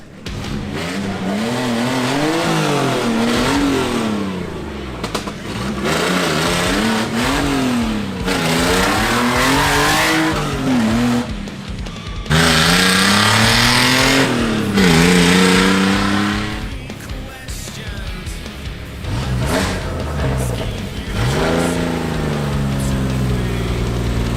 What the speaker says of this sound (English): the Beetle is now out driving around